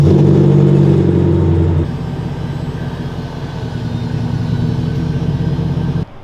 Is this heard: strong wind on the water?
no